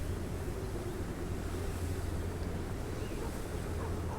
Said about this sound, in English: As you can see, it is quite windy.